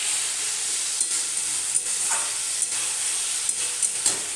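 Fish curry masala with oil separating, sizzling steadily in a pan for a thick, even hiss with a few light clinks of stirring.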